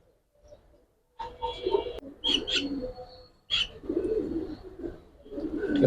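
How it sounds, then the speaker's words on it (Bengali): A female pigeon gives a series of soft, throaty coos in short bursts, close and fairly clear against a quiet background. "এটা মাদি কবুতর"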